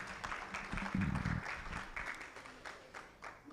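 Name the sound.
audience applause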